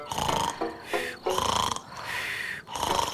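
Two parents snore loudly in a German children's audio drama, with deep rasping inhales and breathy exhales repeating in an uneven rhythm, close and prominent.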